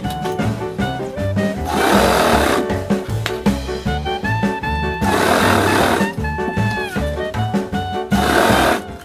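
Sewing machine stitching elastic onto a pajama waistband, running in steady bursts with short pauses and changes in speed, loud and close.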